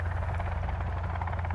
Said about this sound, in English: Got a helicopter floating above my base right now.